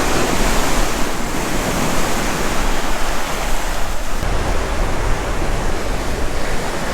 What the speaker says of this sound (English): And some pretty nice waves coming in.